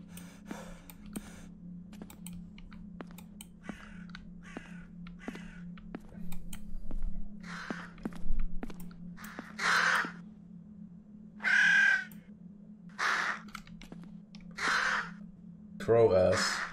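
Crow caws in the video game The Cursed Legacy, several loud harsh calls spaced across the second half over a steady low hum, with soft clicking like typing earlier on.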